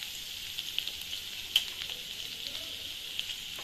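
Garlic fries in two tablespoons of oil in a kadai over a low gas flame, a soft continuous sizzle with faint crackles and pops, close and quiet, without speech.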